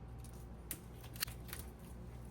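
Scissors snip garden plants, likely summer annuals such as geraniums, dahlias, ferns, petunias or ivy, in a kitchen, with two or three short, close, crisp cuts over a low steady hum.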